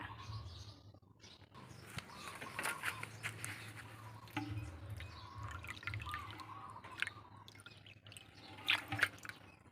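Water from a tap pours into a large jar holding ginger and cow dung for a fermented plant fertilizer, a steady splashing trickle with scattered drips, fairly quiet and close, no talking.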